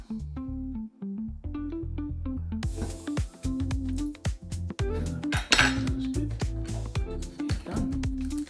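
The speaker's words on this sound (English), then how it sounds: "Now I'm going to do a 1/2 teaspoon of soy sauce" A metal spoon clinks and scrapes against dishes while a half teaspoon of low-sodium soy sauce is measured for crab rangoons, with repeated close, bright taps and rattles of cutlery and crockery.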